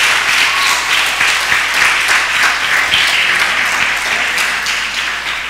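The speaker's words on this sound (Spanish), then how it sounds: "Dele al Señor ese aplauso más fuerte." A church congregation applauds during a sermon, producing steady, dense, loud clapping that fills the space continuously, with no voices over it.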